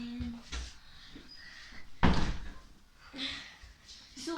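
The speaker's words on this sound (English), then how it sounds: "Close this door after me." A door swings shut in a house with a solid thunk midway through, preceded by faint shuffling and followed by quieter handling noises, fairly close and without clear speech.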